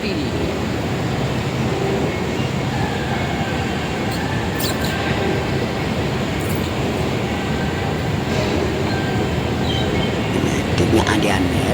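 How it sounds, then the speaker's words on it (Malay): Ride aboard an MRT metro train, a loud continuous rumble of wheels and carriage noise with faint squeals and thumps throughout; no clear speech. "Kita ambil"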